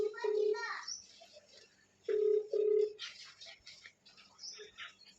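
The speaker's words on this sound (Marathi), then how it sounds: "हां बघूया आपण फोन लावूया त्यांना." A phone call rings after dialing, giving two or three distinct tonal ring bursts separated by pauses, with soft speech and faint background sounds between them.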